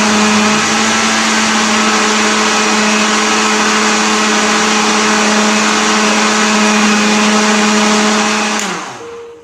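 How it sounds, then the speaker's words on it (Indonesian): A fast-spinning blender purees green grass jelly (cincau) leaves. It runs as a loud, steady high whine for about nine seconds, then winds down abruptly as the motor stops. "Ini memang agak berbuih karena ini memakai blender dan putarannya cepat,"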